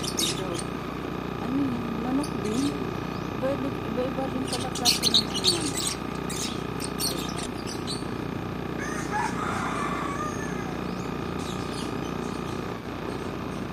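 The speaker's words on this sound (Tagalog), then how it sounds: "Mga huni ng ibon." Scattered bird chirps and calls ring out at a wildlife zoo over a steady outdoor wash of ambient noise, with voices talking in the background.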